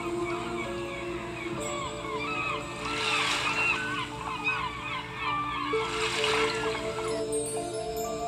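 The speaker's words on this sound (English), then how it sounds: "Seagulls are flying around the boat, waiting for their ready-made food." Seagulls call and squawk while circling a fishing boat off St. John's, Newfoundland; overlapping cries rise and fall over steady engine hum and water noise, with faint voices in the background.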